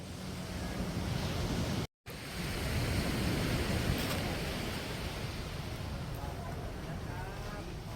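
Surf washes steadily onto Lamai Beach on Koh Samui, Thailand, a continuous broad roar of breaking waves with wind across the microphone, briefly cutting out once before resuming.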